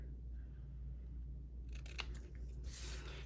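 Scissors trim the edges of a small paper banner for handmade cards, close to the end letters. Quiet room tone comes first, then a few crisp snipping cuts close by in the second half, with no voices.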